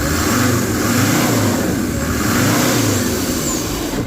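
A 2004 SsangYong Musso Sports with a clogged intake hose revs hard in a repair shop, a loud, sustained engine roar with rising and falling surges, close by and free of speech.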